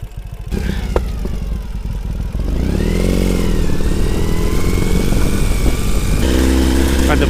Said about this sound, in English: the bike has no problem, none at all, climbing up this washboard